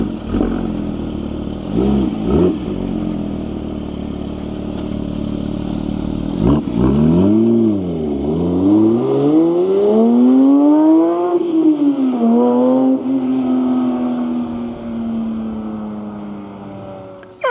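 A 2023 Porsche 911 GT3 Touring with a six-speed manual pulls hard through the gears, its flat-six rising in pitch, dropping at each shift and climbing again, loud and close from inside the cabin.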